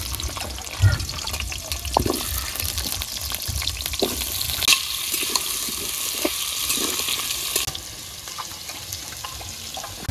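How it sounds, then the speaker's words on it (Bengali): Sliced potatoes hit hot oil in a wok for biryani, setting off a loud, steady crackling sizzle with occasional clinks and stirring scrapes at close range, and no one talking. "আলুটা ভাজমু, তেলটা গরম হয়ে গেছে, আলুটা দিয়ে দেই।"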